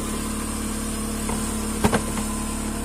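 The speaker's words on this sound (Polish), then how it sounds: "silnik jak na razie chodzi dobrze" A 1.6 Seat Cordoba engine idles steadily throughout after an ignition coil replacement, a constant low hum with a couple of brief clicks near the middle.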